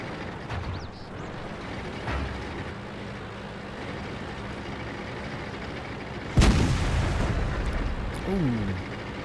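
A tank cannon fires in the game World of Tanks as one sharp, heavy blast that booms and then rumbles away. Quieter engine rumble and smaller thuds come before it, and a brief whine follows.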